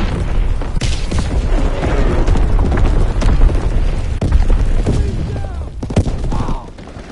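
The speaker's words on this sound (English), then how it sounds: "Incoming enemy artillery!" Loud, dense artillery barrage in the Call of Duty WW2 video game, with repeated booming explosions and rumbling impacts rolling one into the next over continuous battle noise.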